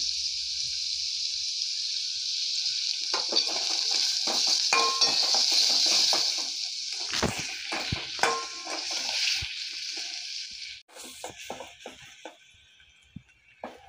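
Onion sautés in a pan with a bright, steady sizzle, broken by spatula scrapes and metallic clinks, then fades to scattered stirring taps near the end.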